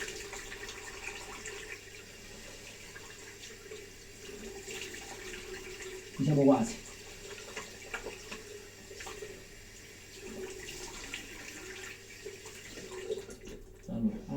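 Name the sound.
water running from tap while rinsing face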